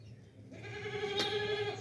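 A Makhi Cheeni goat, a hornless purebred desi dairy doe, lets out a single drawn-out bleat from close by over a faint background hum, with no talk.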